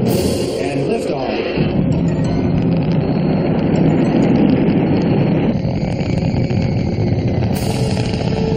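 A cartoon rocket lifts off with a loud, sustained engine roar and rumble, a dense steady blast that stays strong throughout while voices speak over it.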